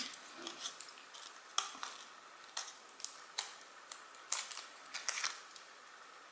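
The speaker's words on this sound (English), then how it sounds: "you can just cut sideways on these ones to create little V's" Scissors snip craft material into little V shapes, a series of quiet, crisp clicks and cuts at an irregular rhythm, close by with no talking.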